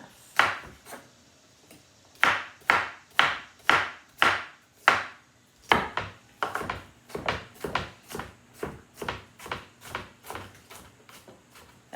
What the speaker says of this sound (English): so let's cut this onion out